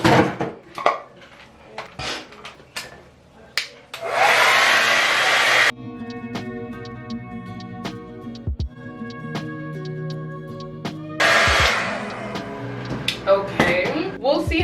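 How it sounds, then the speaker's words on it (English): A hair dryer fitted with a diffuser drying gel-coated hair roars in two short bursts, separated by clinks and light handling noises nearby. "I'm gonna take the diffuser and just diffuse it"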